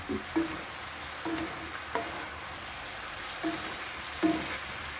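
Zucchini pieces sizzle in a hot pan under a steady frying hiss, with several soft scraping strokes of stirring spaced a second or so apart.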